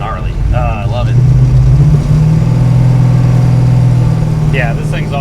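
A 1966 Plymouth Satellite with a 426 HEMI engine revs at about half throttle, a loud, deep, sustained roar that rises and holds close by, with voices briefly at the start and end.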